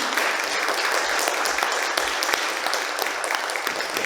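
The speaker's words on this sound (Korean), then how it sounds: "큰 박수로 맞이해 주시기 바랍니다." An audience at a Seogwipo citizens' college lecture applauds as cellist Ye Ji-young is welcomed to the stage, producing loud, dense, continuous clapping that fills the whole four seconds without a break.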